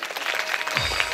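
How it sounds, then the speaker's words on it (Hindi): A brief burst of audience applause at a Ramayan katha gathering, a dense patter of many hands clapping together, loud and close, with a low rumble rising at the end. "एक बार जोरदार ताली।"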